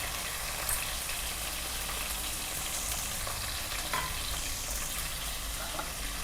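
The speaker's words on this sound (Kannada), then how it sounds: "ಸೊ ಸಾಸಿವೆ ಚಟಪಟ ಅಂತ ಸೌಂಡ್ ಬರ್ತಿದೆ ಅಲ್ವಾ" Mustard seeds and green chillies fry in hot oil in a pan for girmit, giving a close, dense, continuous sizzle with scattered crackles and pops and no voices.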